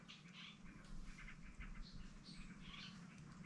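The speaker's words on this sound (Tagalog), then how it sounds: "Sari-saring ibon ang maririnig mo humuhuni." Several birds chirp and call in scattered bursts at a moderate distance over a steady low background hum, with no voices.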